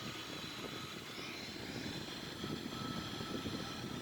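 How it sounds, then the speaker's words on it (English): Starting the left engine of a Boeing 787-9 airliner brings a steady, loud broadband roar and whine that hold constant throughout, with no voices over it. "We have the engine starter now to pressurize the left engine"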